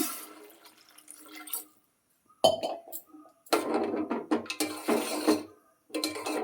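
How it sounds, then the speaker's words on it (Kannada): Water is poured onto sago in a cooking pot for mung dal and sago payasam, heard as splashing pours and metallic clinks of a vessel and utensil, with brief silent gaps between bursts. "ನೀರು ಹಾಕಿ ಬೇಯಿಸ್ಕೊಳ್ತೀನಿ."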